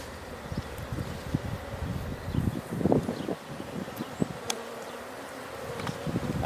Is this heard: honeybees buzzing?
yes